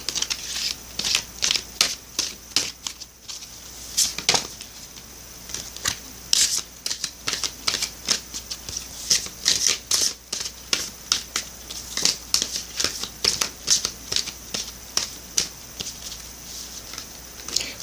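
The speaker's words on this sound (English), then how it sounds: "Now I'm shuffling the Divine Circus Oracle deck for y'all." A Divine Circus Oracle card deck is shuffled close up, giving repeated bursts of riffling card flutters and slaps in an uneven rhythm, with no talking.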